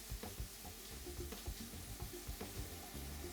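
Finely diced onion sizzles and crackles in hot oil in a pan, with soft scraping stirs and small spatters, faint and close with no talk.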